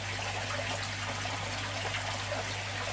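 Water pours steadily into an empty aquarium filter tank that has no media in it yet. The sound is a constant, close trickling gush with a low hum underneath and no voices.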